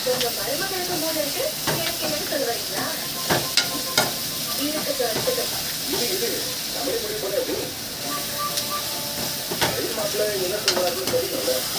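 Salted food sizzles steadily in a hot pan while being stirred, a continuous frying hiss with scraping and clinking stirring strokes throughout, and a voice talks faintly underneath.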